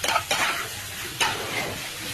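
Paneer cubes with onion and capsicum stirred in a frying pan, a steady close sizzle broken by a few sharp scraping strokes of the spatula.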